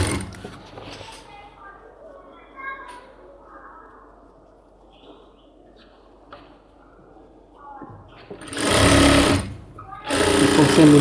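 After a long quiet stretch with a person talking, a sewing machine loudly stitches the side seam of a cargo half pant in two bursts of rapid whirring, with a brief pause between them.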